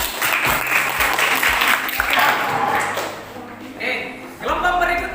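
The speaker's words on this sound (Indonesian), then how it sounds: "Dari aplaus dulu untuk kelompok 4." A classroom audience applauds a student group after their presentation, a dense wash of clapping that swells and fades over about five seconds, with voices talking over it.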